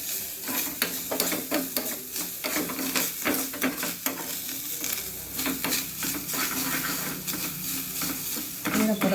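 Grated coconut and nuts dry roasting in a pan over a slow flame, with a steady, close scraping stir and a light sizzle running throughout.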